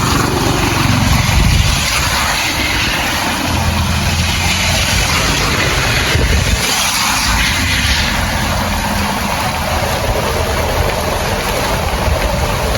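A tricycle engine idles and runs steadily in heavy rain, its low motor hum blending with a dense, loud wash of rainfall that fills the whole stretch without pause.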